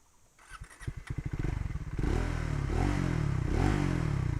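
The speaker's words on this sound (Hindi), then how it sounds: "Let's switch on the motorcycle." Triumph Scrambler 400X motorcycle with a 350cc engine: a starter cranks in quick rhythmic pulses, then the engine catches at about two seconds and settles into a loud, steady, thumpy idle with slight revving swells.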